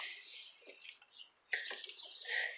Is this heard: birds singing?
yes